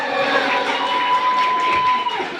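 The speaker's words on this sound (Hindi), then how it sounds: "गोटे जोरदार करताली हो" A crowd at a ceremony honoring an opera company owner breaks into loud, dense applause and cheering, a continuous wash of clapping with shouts and high voices mixed in.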